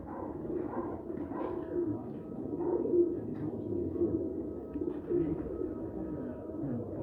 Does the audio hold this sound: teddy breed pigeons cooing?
yes